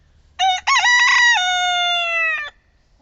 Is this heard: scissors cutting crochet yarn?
no